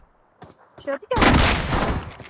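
Gunfire in the video game PUBG cracks out in a dense, loud burst of rapid shots, coming right after a few brief sounds from a player's voice.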